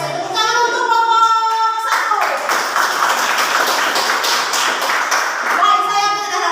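Students in a classroom clap for a group after its answer, a loud burst of many hands that rises sharply, holds for several seconds and then fades back as a teacher's voice returns.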